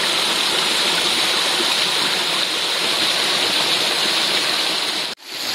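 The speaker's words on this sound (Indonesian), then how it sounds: "Nah, aliran airnya mengalir di antara bebatuan yang ada di kanan kirinya." Mountain stream water rushing steadily between rocks near an Indonesian waterfall, a loud, dense broadband wash that stays constant before cutting off abruptly near the end.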